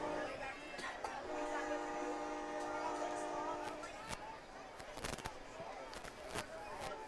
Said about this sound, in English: I think I hear a train in the distance.